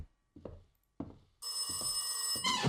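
An old-style telephone in the horror game Mirror rings with a loud, continuous metallic bell trill that rises to a louder burst at the end, preceded by a few dull thumps.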